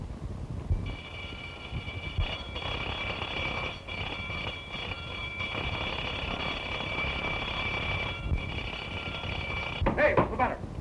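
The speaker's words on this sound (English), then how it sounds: "Sound the alarm, quick." Alarm bell ringing continuously for about nine seconds in an early-1930s setting, a loud, steady metallic ring over background noise and faint voices, cutting off near the end.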